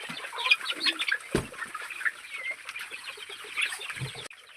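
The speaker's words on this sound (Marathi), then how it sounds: "आता ह्या सेक्शनमध्ये आपण आपल्या कोंबड्या बसवलेल्या आहेत" Free-range gavran chickens cluck and chirp on a farm, with a busy overlapping chorus of close and distant calls and a sharp thump partway through.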